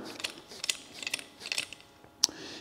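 A torque wrench ratchets and clicks as it is cranked and adjusted on a Tesla tire repair, with quick, quiet metallic clicks in short bursts.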